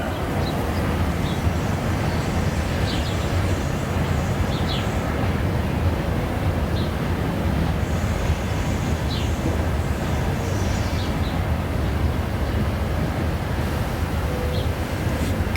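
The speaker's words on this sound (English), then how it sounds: "A train passes." A train passes through Tbilisi near a yard of abandoned coach cars, a loud, steady broadband rumble and rush lasting the whole stretch with no pause, and no voices.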